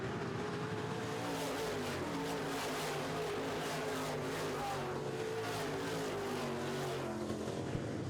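Midwest Modified race cars roaring around a speedway in a feature race, a dense steady drone of several engines at full throttle, rising and falling as the pack passes, heard from a distance with no voices.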